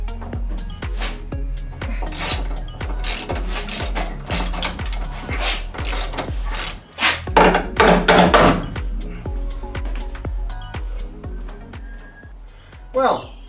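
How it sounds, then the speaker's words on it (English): Rapid ratchet clicking as an M6 Allen head seatbelt adjuster bolt is worked loose in an Audi car body, a fast steady run of sharp mechanical ticks, close by, with a brief scraping burst midway. "I'll just remove the seatbelt adjuster point here. It's an Allen head bolt in there"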